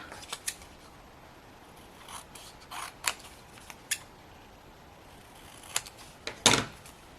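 Scissors trim the edge of a quilted paper tag in quiet, sparse snips and faint creaks spread over several seconds, ending with one louder, sharper cut.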